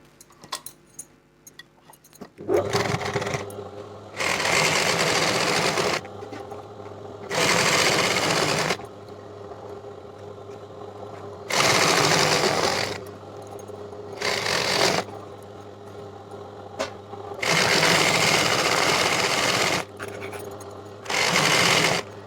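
Sewing machine stitching a ladies' pant leg with a marking at the 7-inch bottom, running in loud bursts of about two to three seconds each, separated by short pauses, with no talk over it.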